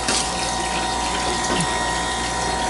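Water pours and splashes steadily inside a Manitowoc commercial ice maker with stainless steel bins, a continuous rushing wash with a low pump-like hum beneath it.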